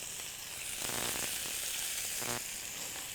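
Shallots sizzling steadily in a steak pan's hot juices, a constant bright hiss with no voices.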